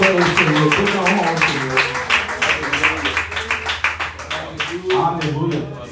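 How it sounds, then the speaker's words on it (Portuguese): A church congregation claps loudly in rhythmic praise to the Lord, quick regular claps close by, with singing or voices woven underneath throughout. "Aplauda ao Senhor."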